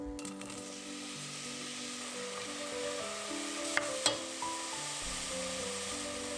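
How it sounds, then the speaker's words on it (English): A soft, continuous sizzle of diced onions sautéing in olive oil, with a couple of faint clicks of a utensil partway through. "While I'm sauteing diced onions in olive oil"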